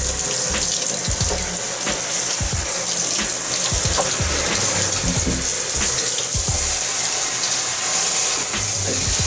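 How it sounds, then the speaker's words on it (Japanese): Lukewarm tap water runs over the guides of a fishing rod, a steady close splashing and gushing flow that continues without a break. "上から流して下に落としていくような感じで、しっかりガイドの部分をこう撫でるように、こうガイドに塩がたまるので、そこをこう撫でて下ろしていくような感じで流"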